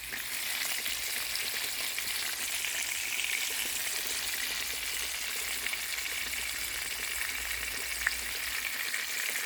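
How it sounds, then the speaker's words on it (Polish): Minced pork patties fry in a hot pan at an outdoor summer kitchen under a garden shelter, a steady close sizzle with faint crackles and one sharp pop. "wrzucam na patelnię która mi się tutaj już rozgrzewa"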